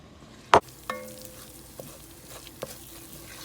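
Roux cooking in a pan over medium heat gives a low, steady frying sizzle, with a sharp utensil knock near the start and a few fainter clinks and scrapes of stirring later.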